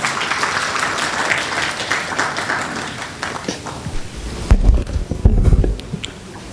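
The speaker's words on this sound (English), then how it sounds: "Let us give him a big round of applause." Applause from the audience at a tax conference inaugural session, a full crowd clapping that carries on and thins out toward the end, where a few louder close thumps and handling knocks come through.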